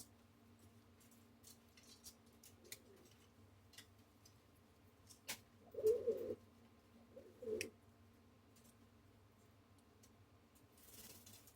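A brown pigeon coos and grumbles close by in two short throaty bursts against a quiet indoor background, with faint ticks and clicks scattered around them.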